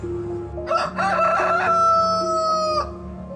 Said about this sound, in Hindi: मुर्गे की आवाज आई।